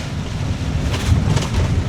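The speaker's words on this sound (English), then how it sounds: "with the wind blowing like from the speed" Steady broadband wind rush buffeting a moving RV on a road, loud and continuous with low rumble throughout, no voices.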